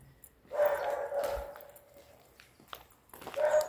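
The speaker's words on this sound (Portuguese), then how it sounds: "apareceu um cachorro do nada" A dog barks once in a mansion's outdoor area, fairly faint and a little distant, with background noise around it and no talking.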